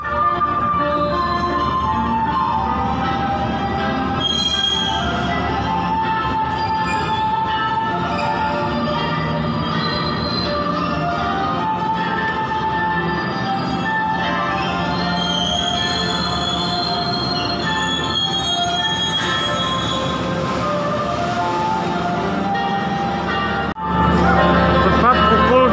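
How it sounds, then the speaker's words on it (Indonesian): KA Probowangi passenger train pulling into platform 2 at Surabaya Gubeng station at night, wheels squealing steadily on the rails with rumbling carriages close by throughout, and a louder burst of rolling noise near the end. "kereta api Probowangi masuk di jalur 2 stasiun Surabaya Gubeng"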